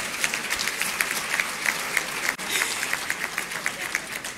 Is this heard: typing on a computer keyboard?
no